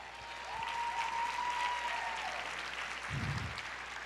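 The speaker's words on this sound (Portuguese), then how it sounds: "Aplauda o Senhor" A church congregation applauding during a sermon, a steady, faint wash of clapping that continues throughout, with a drawn-out voice heard over it.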